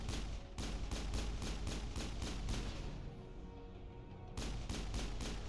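Rapid pistol shots in the Mass Effect video game, a fast steady volley of sharp cracks that pauses for about a second and then resumes, over a dense background of game noise.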